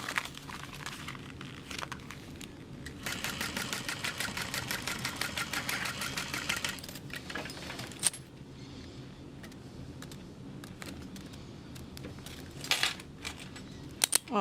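A sewing machine top-stitches the folded binding on a stadium bag in one short run of rapid, even stitching, fairly quiet and close, amid scattered handling clicks and rustles.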